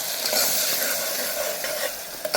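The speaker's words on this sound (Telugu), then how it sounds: "ఆనియన్స్, పచ్చిమిరకాయలు, అల్లం వెల్లుల్లి పేస్ట్ చక్కగా దోరగా వేపుకుందాం." Onions, green chillies and ginger garlic paste fry in hot oil, with a constant bright sizzle and a few soft stirring scrapes, close and alone.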